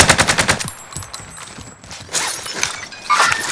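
Bursts of rapid automatic fire from Call of Duty Warzone on the Caldera map, loud and close, with sharp cracking shots in quick succession, a short lull, then more firing near the end.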